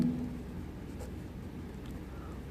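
Pen scratching on paper as steps are worked out during a Class 7 maths lesson, a quiet, steady scribbling texture under faint room noise, with no speech.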